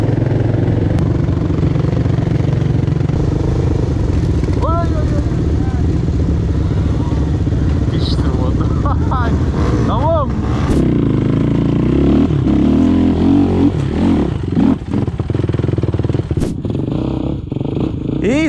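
A Suzuki LTZ400 quad runs on a muddy trail, its engine rumbling continuously with occasional revs and clatter while people talk over it.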